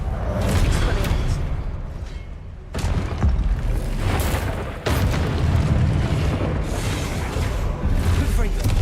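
Expelliarmus disarming spell in Hogwarts Legacy combat, heard amid a continuous roar of magical battle with a few sharp, booming impacts spaced a couple of seconds apart.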